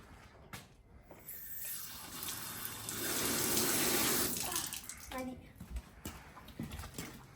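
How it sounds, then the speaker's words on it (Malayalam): Water poured from a bottle at home, a rushing stream that swells for a few seconds in the middle and then tapers off, heard close under people talking. "ഒത്തിരി വേണ്ട. ഇച്ചിരി വെള്ളം ഒഴിച്ചാൽ മതി."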